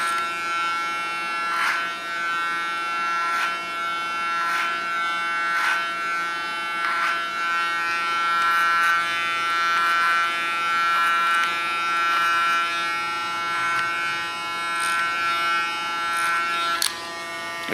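An electric hair clipper runs close by with a steady high whine, cutting short hair over a comb, and its pitch lifts in brief snips every second or two.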